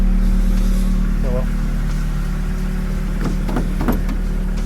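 A Ford Focus MK1 with a swapped EcoBoost engine and no catalytic converter idles steadily with a smooth, even hum, while someone talks over it.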